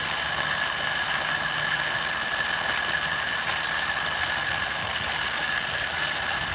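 An electric ice cream maker, a modern take on the old-fashioned hand-crank freezer, churns homemade ice cream with a steady, continuous motor hum and faint rattle that holds evenly from start to finish, with no talking.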